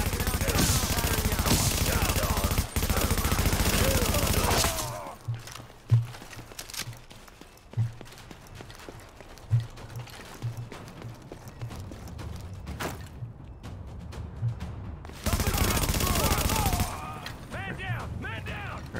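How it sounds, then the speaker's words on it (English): Bursts of automatic gunfire crackle in a firefight in The Division, with dense loud stretches of shooting at the start and end and scattered shots and impacts in between. "Open fire!"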